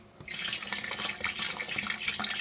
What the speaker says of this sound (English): then I'm going to add a little bit more water